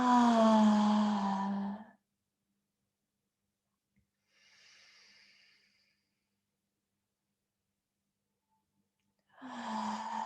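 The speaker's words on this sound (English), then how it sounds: "Just breathing into the belly, rounding it, exhale," Deep breaths during a guided tantra breathwork session: a long, strong exhale opens, a soft faint breath comes midway after silence, and another loud breath begins near the end, with no talking.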